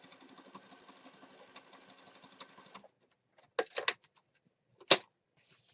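A sewing machine stitches paper junk journal pieces in a quick, faint run for a few seconds, then stops, followed by a few sharp clicks and taps of handling.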